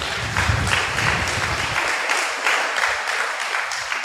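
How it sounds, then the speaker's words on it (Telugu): Parents in a church audience break into steady applause, a dense, continuous patter of many hands clapping at moderate loudness for several seconds with no talking. "ఆశ కలిగిన తల్లిదండ్రులు చప్పట్లు కొట్టుకోండి."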